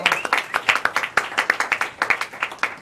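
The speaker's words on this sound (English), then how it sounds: "Let's get another round of applause." A live audience gives a round of applause at an anniversary show, with a steady patter of individual hand claps at moderate volume and no talk over it.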